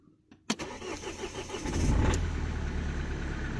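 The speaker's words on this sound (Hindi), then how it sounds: "अब देखना पड़ेगा गाड़ी स्टार्ट होती है या नहीं" An SUV 500 in heavy snow cranks with a sharp click and whirring starter, then catches and settles into a loud, steady idle close by.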